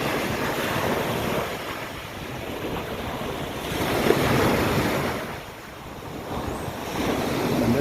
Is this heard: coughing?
no